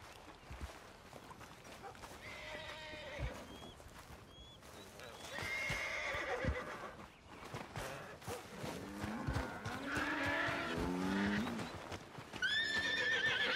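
In Red Dead Redemption 2, a horse whinnies several times amid clip-clopping hooves, with voices talking in between and a second loud neigh near the end.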